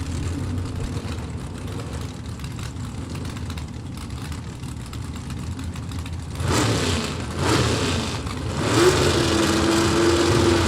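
Drag racing cars rev at Byron Dragway, a Pontiac and a Ford among them: a low, rumbling idle that jumps to louder, harsher revving bursts partway through, then a rising whine as engines build and stay loud to the end.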